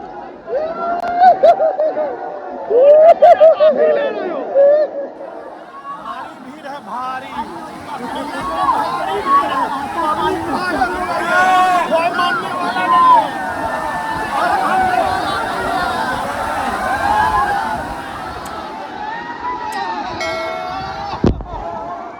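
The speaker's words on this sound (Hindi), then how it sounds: "भारी भीड़ है, पब्लिक बेकाबू हो चुकी है, अंड संड कूदा कूदी कर रही है।" A large, rowdy crowd bathing and jumping under the falling water at Kakolat waterfall in Nawada, Bihar, a continuous babble of voices with shouts and splashy bursts, plus someone talking close by.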